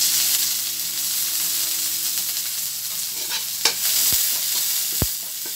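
Onion sautés in a pan for a mixed vegetable and chicken dish, a constant close sizzle with stirring scrapes and two sharp utensil knocks near the end.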